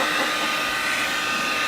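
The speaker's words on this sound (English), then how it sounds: "I have a good old blow dryer. Let's see if that does it." A hair blow dryer thaws a frozen part inside a camper van, its steady, close, even whir running alone without a break.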